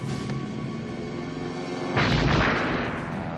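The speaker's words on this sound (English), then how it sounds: "There's also this dodgy grenade effect." A grenade explosion sound effect in the 1988 film Scarecrows: a sustained engine-like drone suddenly broken by a loud, sharp boom that decays into rumble over about a second.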